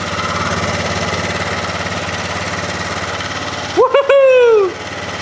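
An engine that sat unused for five years runs with a steady, droning mechanical hum, then cuts out abruptly near the end as a whooping voice cheers over the fading sound.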